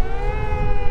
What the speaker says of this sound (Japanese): サイレンが鳴りました。